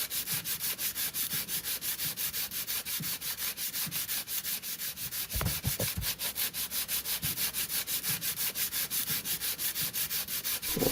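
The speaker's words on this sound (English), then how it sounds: "You'll need to keep sanding this until the surface is perfectly smooth." Hand sanding of a broken car bumper under repair, a steady back-and-forth scratchy rasp repeating in even strokes throughout, close and continuous, with a few brief knocks midway.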